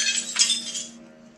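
Glass shattering somewhere inside an apartment, a bright crash with tinkling fragments that fades out over about a second, alone over a faint hum.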